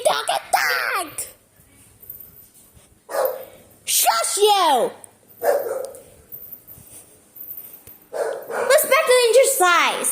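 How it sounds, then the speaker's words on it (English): A puppy barks in short bursts inside a house, mixed with excited voices of people and someone talking and laughing between and over the barks. "The puppy dog attacked!"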